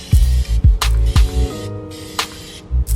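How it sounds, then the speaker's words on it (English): Short repeated hissing bursts from an aerosol spray paint can applying a second coat to car exhaust tips, close and loud, each spray lasting about a quarter to half second. "Just sprayed the second coat."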